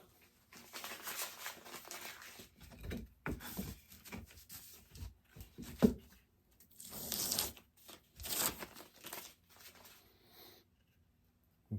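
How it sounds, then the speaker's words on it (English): Tape peeled off a bandsawn wooden workpiece for a lamp or table leg, heard as several close ripping and crackling pulls in uneven bursts separated by short pauses. "We'll take this tape off."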